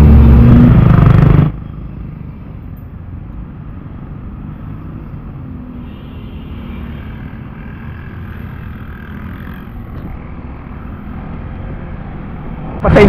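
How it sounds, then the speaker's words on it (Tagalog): Wind and passing traffic on Sumulong Highway, a loud rush at the start that drops to a low, steady roadside rumble, with another loud burst right at the end. "Rinig yung hangin, rinig yung sasakyan."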